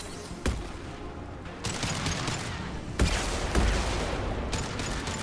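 Video game gunfire from Mass Effect 2 Legendary Edition: sharp repeated shots in a busy combat mix, with several loud cracks spaced irregularly over a dense background of battle noise.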